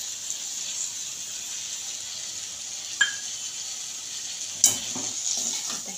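Okra fry with squeezed coriander being stirred in a pan, a soft steady sizzle underneath with two sharp clinks of a spoon against the pan, fairly quiet and close, nobody talking.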